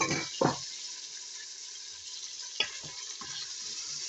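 Frozen onions and wheat being stirred in a Cookeo electric pot give a steady hiss with a few clattering spoon knocks, close and fairly loud, no talking.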